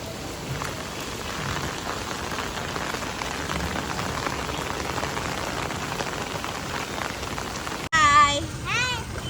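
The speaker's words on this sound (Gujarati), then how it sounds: "અત્યારે બહુ બધો વરસાદ આવી રહ્યો છે" Heavy rain pours steadily with a dense, hissing patter, then a voice briefly speaks near the end.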